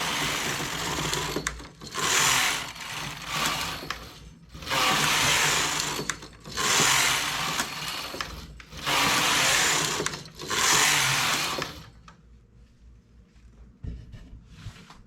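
A knitting machine works rows of a one-piece square poncho, its carriage sweeping back and forth in five loud rasping, whirring passes, each about two seconds long with brief pauses between, before falling quiet near the end.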